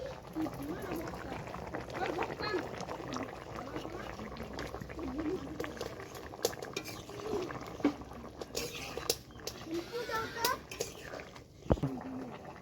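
Katla fish curry bubbling in a pan, a steady close simmer with small pops and gurgles running throughout, while a voice talks over it.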